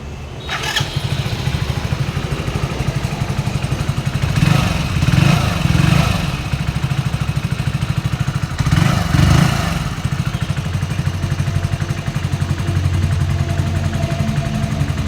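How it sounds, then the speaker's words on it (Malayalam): A motorcycle engine cranks and catches, then idles steadily with a thumping rhythm, revving up briefly twice, close and loud throughout. "ഇനി വണ്ടി ഞാൻ സ്റ്റാർട്ടാക്കി തരാൻ പതിവ് പോലെ സൗണ്ട് കേട്ടോ"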